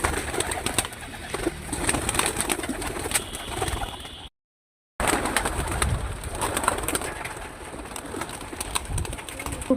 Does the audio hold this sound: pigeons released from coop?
yes